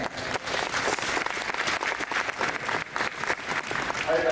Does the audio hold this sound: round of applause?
yes